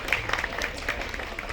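Applause from an audience at a hotel venue hosting an evening community event, a steady patter of many hands clapping at moderate level throughout the short stretch.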